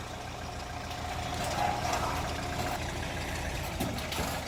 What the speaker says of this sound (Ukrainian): Все, Вадюсик завів.